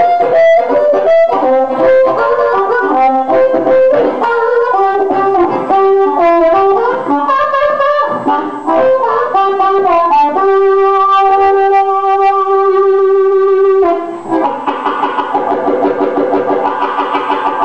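A dry amplified harmonica, played through a Superlux D112 mic into a VHT Special 6 amp, runs through quick melodic phrases, then holds a long steady chord and ends on a rougher, breathier tone, loud and close.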